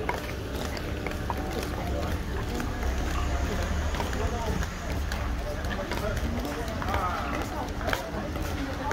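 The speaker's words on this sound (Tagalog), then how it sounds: "Ang ingay ng mga bakya namin." Wooden bakya clogs clatter steadily on a street in Kawagoe, Japan, a dense run of hard, overlapping footstep clicks under a busy outdoor background while people talk.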